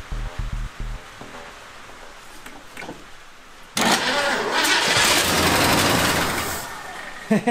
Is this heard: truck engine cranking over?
yes